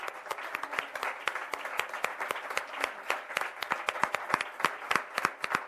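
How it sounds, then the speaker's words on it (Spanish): Sparse applause from a small group at a municipal council plenary session in San Fernando, with distinct individual hand claps ringing out fairly close and steady for several seconds. "muchísimas gracias a todos y un aplauso"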